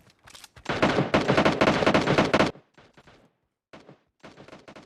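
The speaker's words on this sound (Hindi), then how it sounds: "आगे से बहुत गोली चल रही थी" Heavy bursts of gunfire from the PUBG Mobile Lite battle-royale game, a long loud stretch of rapid shots followed by fainter scattered bursts at a distance, with no talking.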